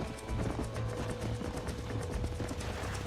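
Horses' hooves clatter in the video game Red Dead Redemption, a rapid, continuous clip-clop of galloping at moderate loudness over a low ambient rumble.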